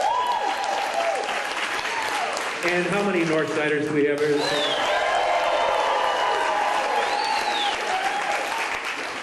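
A comedy show audience in Chicago claps and cheers loudly throughout, while a voice speaks over the applause partway through.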